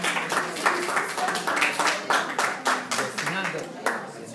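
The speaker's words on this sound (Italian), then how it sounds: "un applauso." An audience applauds at an anniversary gathering of a Penisola Sorrentina UNITRE senior university, with steady rapid hand clapping throughout and voices speaking over it.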